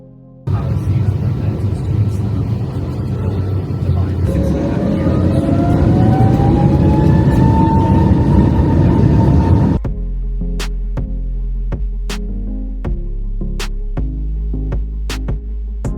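A Frontier Airlines jet pushing back and taking off for Cleveland: steady loud cabin engine roar with a rising whine building for about ten seconds, then a shift to a quieter, lower hum with scattered clicks.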